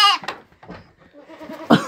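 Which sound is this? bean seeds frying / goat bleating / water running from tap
goat bleating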